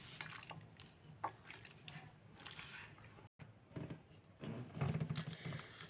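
Cooked eggplant mashed by hand into a paste for a spicy Bengali vorta, giving wet squishing and squelching sounds close up, uneven and continuous with a brief break midway.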